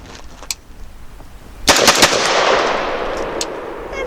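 A Genesis Arms Gen-12 AR-10 style 12-gauge shotgun fires slugs, giving a loud, close blast that is followed by a long ringing decay outdoors, with a faint click heard beforehand.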